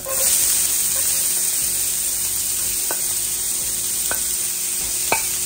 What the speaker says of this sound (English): Now I'm going to go in with a little bit of olive oil. And we're going to saute that onion and pepper.